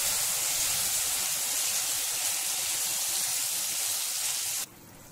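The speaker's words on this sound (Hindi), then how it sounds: "तड़के में हम ये राइस को डाल देंगे और इसे हम अच्छे से तड़के के साथ मिक्स कर लेंगे।" Curd rice being stirred into a hot tadka tempering in a pan, giving a steady, close sizzling hiss with soft scraping underneath that cuts off abruptly near the end.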